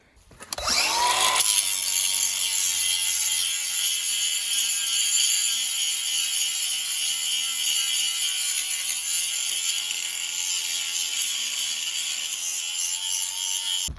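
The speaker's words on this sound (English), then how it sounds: "we'll go ahead and start grinding on the plow frame itself and get it ready" An angle grinder works steel on a plow frame from a Bullnose Ford plow truck, a loud continuous abrasive whine that holds steady for the whole stretch after a quick spin-up, with no talking.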